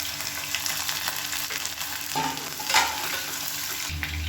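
Fennel, fenugreek, red chilli and garlic frying in hot oil for a kulambu, a steady close sizzle and crackle with brief stirring scrapes, no talk.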